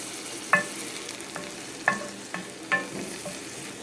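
Wild garlic mustard greens cooking in a pan over medium-low heat, a soft steady sizzle broken by a few sharp stirring clicks and scrapes spaced about a second apart, close and quiet, no talking.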